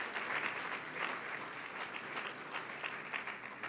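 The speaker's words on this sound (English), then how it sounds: "I think I know which table started the applause" A seated audience at a Cal State LA presidential address applauds with steady, fairly faint clapping that carries through the whole stretch.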